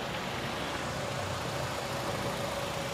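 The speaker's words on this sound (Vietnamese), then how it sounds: "anh chị thấy không, bốn máy nổ rất êm" A 2010 Kia Carens with a 2.0-litre four-cylinder engine idles smoothly in its open engine bay, a steady, even hum with a faint whine, no voices over it.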